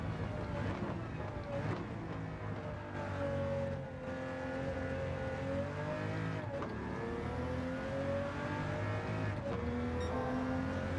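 Toyota Supra RZ '97 fitted with a Huayra engine racing in Gran Turismo 7 on Le Mans, its steady engine note rising and falling through lift-off and braking, loud and continuous for the whole stretch with no talk.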